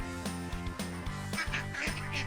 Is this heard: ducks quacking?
yes